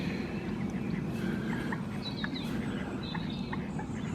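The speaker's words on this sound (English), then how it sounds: "So there's just that many ducks and things" Ducks and other waterfowl call at a wildlife pool at Sandbach, with scattered quacks and chirps over a steady outdoor noise bed, moderately distant.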